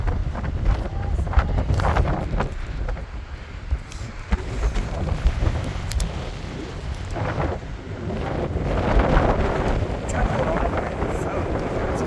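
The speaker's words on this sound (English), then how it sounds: "It's really windy on this side." Strong gusting wind buffets the microphone on an exposed coastal lighthouse trail, a steady loud roar with rumbling surges throughout, and no clear talk over it.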